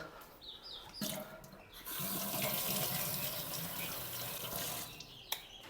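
Fresh water poured into a pet budgies' drinking dish, a few seconds of steady close-up pouring and trickling, with faint indoor handling sounds before and after.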